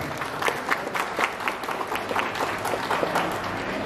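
A crowd applauds steadily at a grand opening ceremony of a technology and business institute, many hands clapping in a dense, continuous patter at moderate loudness with no talk over it.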